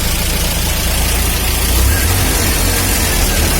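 A car engine, choke pulled out, idles steadily with a low rumbling drone that thickens slightly as it settles; loud and close throughout, with no talk over it.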